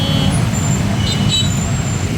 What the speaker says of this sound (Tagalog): Sobrang traffic.